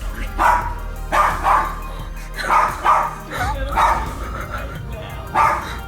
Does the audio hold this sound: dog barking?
yes